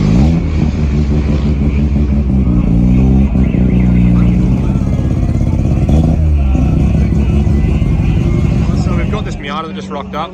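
A Mazda MX-5 roadster, 1.6 litre, arrives in the racing game Need For Speed Heat. It gives a loud, steady engine drone with rising revs and a rumbling exhaust that fades slightly near the end.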